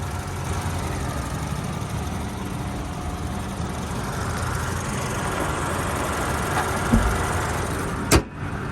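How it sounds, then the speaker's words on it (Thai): The 2.4-litre engine of a 2008 Honda CR-V idles smoothly and evenly at close range, a steady low hum with a faint click near the end. "เครื่องยนต์เดินนิ่มเรียบนะครับ"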